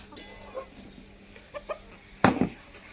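Scattered soft clucks from chickens feeding, with one louder burst of squawking near the end, over a quiet background.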